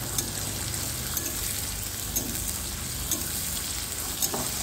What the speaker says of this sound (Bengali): পেঁয়াজটাও লাল করে একটু ভাজতে হবে কিছুক্ষণ